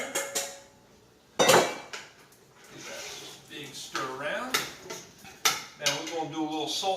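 Chunks of lamb tipped into a pot of stew vegetables (potatoes, parsnips, carrots, turnips) give a loud clattering burst of metal and wet thuds, with scattered utensil clinks and someone talking over the cooking afterward.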